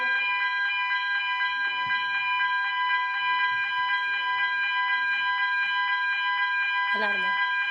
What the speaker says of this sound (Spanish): Alarma.